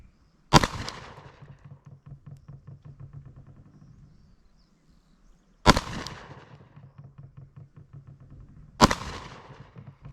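Glock 19 Gen5 pistol fired at an outdoor shooting range, three loud, sharp single shots spaced several seconds apart, each followed by a long rattling echo that fades between shots.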